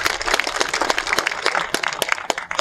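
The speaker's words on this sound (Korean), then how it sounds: "박수 보내주십시오." Applause from the audience at the opening ceremony of poet Shin Dal-ja's literature museum in Geochang, close and lively individual claps forming a brisk burst throughout.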